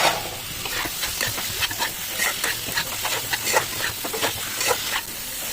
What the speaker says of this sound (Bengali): এটাকেও ঠিক ভালোভাবে মিক্স করে নেব।